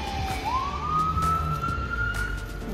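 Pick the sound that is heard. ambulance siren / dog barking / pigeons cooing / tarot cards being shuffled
ambulance siren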